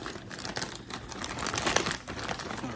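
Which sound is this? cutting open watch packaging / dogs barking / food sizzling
cutting open watch packaging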